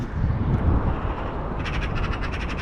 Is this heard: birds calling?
yes